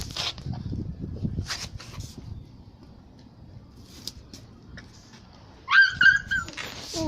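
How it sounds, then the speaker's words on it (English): A litter of eight puppies whimpers and yips in short high-pitched bursts, sparse through the first seconds and then louder and denser near the end, over low background rumble and some faint talk. "We got puppies, got 8 of them."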